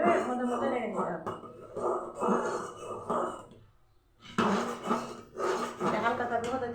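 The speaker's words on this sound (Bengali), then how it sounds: "মধ্যে মধ্যে এভাবে নেড়ে নেড়ে দিতে হবে" A spoon stirs milk pudding (payesh) made with new black rice in a pot, scraping and clinking against the bottom in repeated strokes beneath near-continuous talk.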